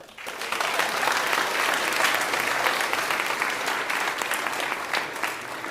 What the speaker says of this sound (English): we need to give them a big round of applause